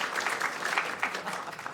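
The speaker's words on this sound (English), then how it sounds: "Let's give our council and the mayor a big round of applause" A crowd claps steadily in sustained applause at a Sacramento City Council meeting, a dense patter of many hands throughout.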